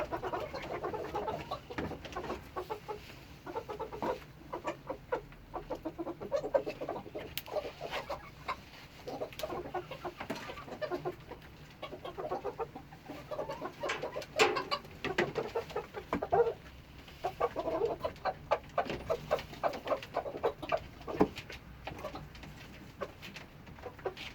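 Several chickens recovering from broodiness cluck and chatter continuously at close range, with irregular bursts of calls over a busy background.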